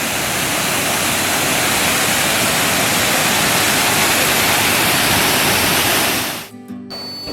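Luni river water rushes over a causeway in a loud, constant roar that holds steady, then drops away abruptly near the end, leaving brief quieter noise.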